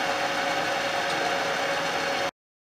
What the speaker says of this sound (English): we're drilling that hole